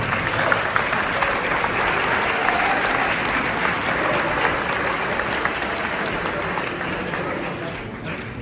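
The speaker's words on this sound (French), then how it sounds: "J'aimerais que vous applaudissiez ceux et celles qui vont courir leur premier marathon." A large audience at a New York Marathon launch evening for an Alsatian delegation applauds first-time marathon runners, with steady, dense clapping sustained throughout that fades slightly toward the end.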